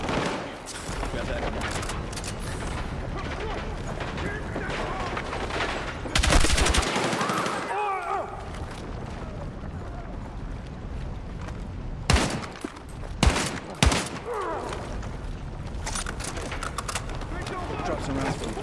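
Sustained automatic gunfire from a machine gun in the video game Battlefield 6, with continuous rattling bursts, several sharp louder shots around the middle and end, and a voice shouting over the battle.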